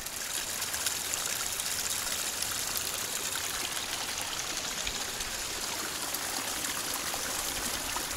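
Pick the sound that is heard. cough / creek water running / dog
creek water running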